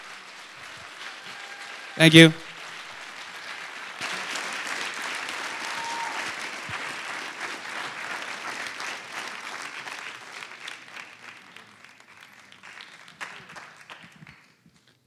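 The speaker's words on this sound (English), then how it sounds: "And a round of applause for my pianoist" An audience at a meditation-for-students foundation event applauds a pianist with sustained, steady clapping that slowly tapers off. A voice briefly speaks over it near the start.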